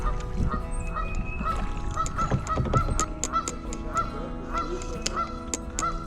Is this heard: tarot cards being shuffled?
no